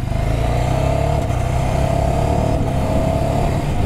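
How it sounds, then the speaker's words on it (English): A 2023 Ducati Scrambler with an air-cooled engine held at full throttle, a loud, steady, close roar with a rising tone throughout and brief dips from shifts. "I love the air-cooled Ducati sound"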